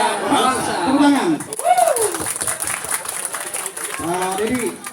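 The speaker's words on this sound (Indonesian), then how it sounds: "Tepuk tangan." A crowd at a community Halal Bihalal gathering in Citra Indah City applauds under a loud voice on a PA, with chatter and some laughter mixed through the clapping.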